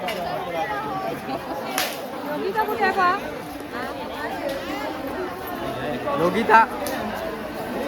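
Crowd chatter from pilgrims at Kunkeshwar temple during the yatra fair, a steady babble of many voices with occasional louder calls nearby and a brief sharp crack around the middle.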